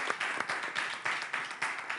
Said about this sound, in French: Est-ce qu'on peut souhaiter la bienvenue à nos invités avec des applaudissements?